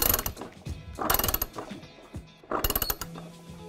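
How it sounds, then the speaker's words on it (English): A ratchet wrench clicks in quick bursts while tightening an impeller on a submersible pump during assembly, with close metallic ratcheting and short pauses between strokes. "then we're going to take our wrench and then we're going to tighten it down."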